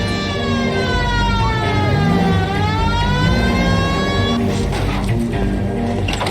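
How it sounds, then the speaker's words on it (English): A police car siren in the video game L.A. Noire wails, rising and falling in pitch, loud and close, over traffic rumble, then shifts into a faster yelping pattern near the end. "Hit the siren."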